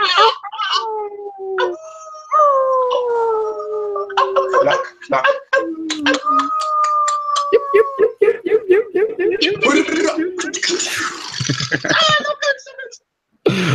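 A group at an evening team-building circle imitates wolf howls and animal noises, with voices layering long sliding howls that overlap and rise and fall, broken by yips and laughter, loud and close throughout.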